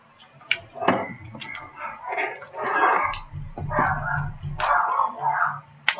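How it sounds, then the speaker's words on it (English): Dogs bark repeatedly and excitedly close by, overlapping yips and sharp barks in irregular bursts. "my dogs are going crazy"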